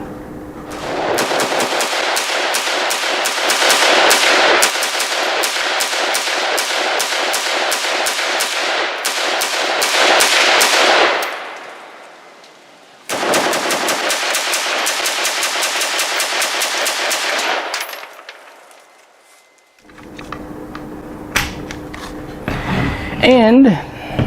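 An HK G36K pistol with folding arm brace firing at an outdoor range, long rapid bursts of loud, close shots with a short pause between them, then quieter handling noises and brief voices at the end.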